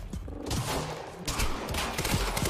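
Gunfire in the Quantum Break video game sounds as dense, rapid bursts of shots, loud and close, crackling in quick succession throughout.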